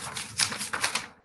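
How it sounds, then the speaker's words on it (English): Paper rustling as someone writes on it, a few quick crisp scratchy bursts in close succession, near and fairly quiet, ending in silence. "Can you hear the sound of paper when I write?"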